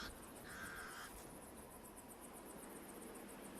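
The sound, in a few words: pied crows sounding alarm calls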